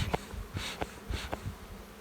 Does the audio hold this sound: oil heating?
no